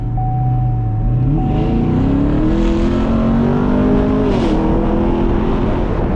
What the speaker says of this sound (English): the shift, like, it was a lot smoother into the next gear